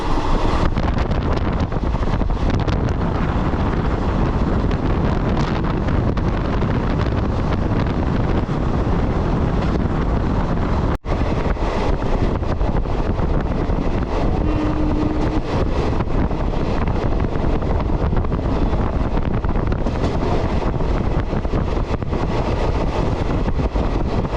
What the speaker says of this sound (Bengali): ট্রেন কিন্তু খুব দ্রুত গতিতে চলছে